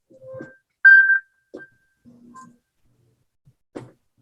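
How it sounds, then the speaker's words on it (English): A chime from an Apple Find My device, played so a nearby device can be located, sounds alone in quiet surroundings as a short series of separate, clear tones with pauses between them. "To help find a nearby device, tap Play Sound. Your device plays a chime"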